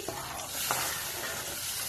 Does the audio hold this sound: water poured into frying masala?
yes